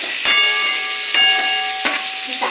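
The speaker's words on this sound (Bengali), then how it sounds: "চাপা দিয়ে আমি ভাজি, পটলগুলো ভাজা হয়ে গেছে" Pointed gourd (potol) fries in oil under a cover, giving a steady hiss and sizzle with a few sharp pops and crackles scattered through it, close and clear with no voices.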